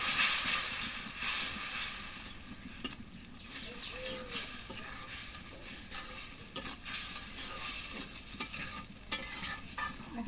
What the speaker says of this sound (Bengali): মশলাটা কষানো হয়েছে মাংসটা দিয়ে মাংসটা দিয়ে একটু কষাই নিই